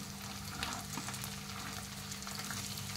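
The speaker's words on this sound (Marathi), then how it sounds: "आता आपण फोडणीमध्ये मटार टाकणार आहे।" Green peas sizzle in hot ghee as a tempering with cumin and cashews for jeera matar pulav, a close, continuous crackling hiss with faint stirring scrapes, heard alone at a soft level.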